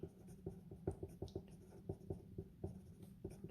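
Hand-writing of a physics problem solution, likely pen or pencil on paper: a steady run of short scratchy strokes in irregular rhythm, close and fairly quiet, with no talking.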